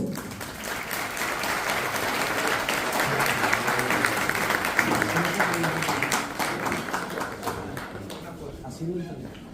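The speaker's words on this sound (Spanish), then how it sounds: "Fuertes los aplausos." Audience applause at a ceremony of a Guaraní language and culture association in San Juan Nepomuceno, steady and sustained clapping from a crowd filling the whole stretch, with faint voices murmuring underneath.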